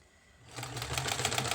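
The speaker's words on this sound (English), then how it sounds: "Reverse sew on the end so that it's strong, and then as I sew, I'm just folding it in thirds like that" A sewing machine starts up and stitches a fabric face mask, a close, rapid mechanical rattle that begins after a brief quiet pause and runs steadily to the end.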